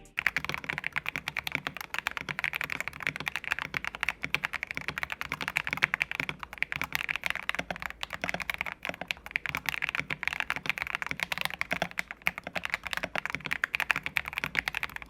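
Continuous, fast typing on a Vissles V84 mechanical keyboard with stock switches, with dense, crisp key clacks in a steady stream, close up.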